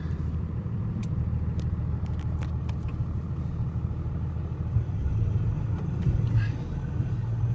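A pickup truck with a Cummins diesel, G56 manual transmission and Valair twin-disc clutch drives along with a steady low engine rumble and road noise, plus a few faint clicks and rattles.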